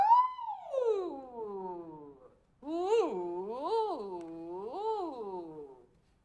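A single voice imitates a siren as a vocal warm-up, one long gliding descending whoop followed by a rising-and-falling wavering wail, clear and close.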